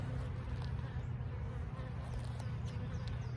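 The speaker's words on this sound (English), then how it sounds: "There's some bees on the top here." Honeybees buzz steadily around hive splits, a dense, continuous low hum of many insects close by, with no pauses and no talking.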